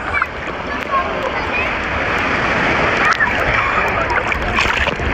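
Ocean water in Jamaica splashes and sloshes continuously close by, a dense wash of churning sound with brief voices mixed in.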